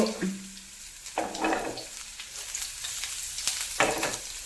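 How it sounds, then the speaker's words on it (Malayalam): Shallots fry in coconut oil in a pan for a Kerala-style beef liver dish, a soft, steady sizzle with a few louder bursts of crackling as they hit the hot oil. "കുറച്ച് വെളിച്ചെണ്ണ പാർന്ന് ചെറുള്ളി ഇട്ടു"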